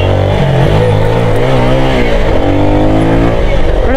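A motorbike engine revs loud and close in a lane, its pitch rising and falling in a continuous throaty roar.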